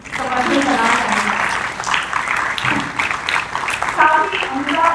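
Audience applause rises and holds steady through the stretch, fairly loud and continuous, with a voice speaking over the clapping as people cheer during an on-stage event.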